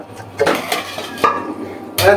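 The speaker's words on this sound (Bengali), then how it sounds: "পেঁয়াজটা দিয়ে ঢাকনা দিয়ে দিবা না?" A lid is set on a cooking pot of taro leaves with onion in a home kitchen, heard as metallic clanks and clinks close by, with a sharper clatter at the end.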